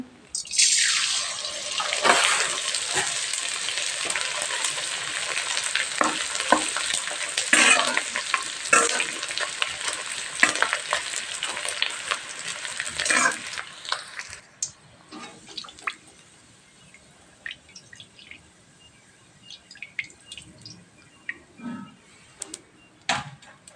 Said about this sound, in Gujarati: આપણે ગુણ તળી લઈએ